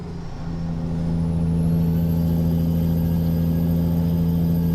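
In American Truck Simulator, a truck engine drones loudly and steadily at low RPM while a turbo whistle rises and holds above it, a continuous close rumble throughout.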